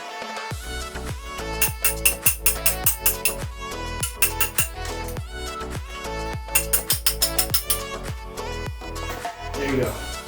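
A socket and ratcheting tool work on pressing out a car's lower ball joint, with bursts of rapid, sharp ratchet clicks in quick runs separated by short pauses, close and fairly loud.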